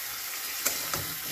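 Spices sautéing in a frying pan, a continuous close sizzle with a couple of brief scraping stirs of the spoon, no talking.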